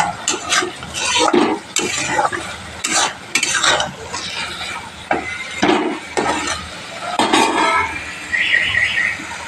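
Mushroom kosha stirred in a pan with a spatula, giving a run of scraping, clattering strokes at an uneven rhythm over a faint sizzle, close and fairly loud, with no talk.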